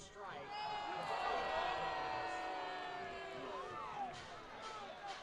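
Loud baseball crowd at an Oakland Ballers game, a steady wash of voices with drawn-out tonal jeering that swells in the first seconds and holds throughout.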